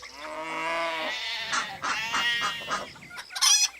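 A goat bleats in a long wavering cry, followed by clucking and squawking chickens close by, farmyard sounds overlapping loudly.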